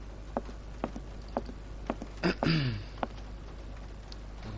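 Light, sparse patter of rain in the adventure game Syberia, soft scattered ticks at low level, with a short burst of another sound midway.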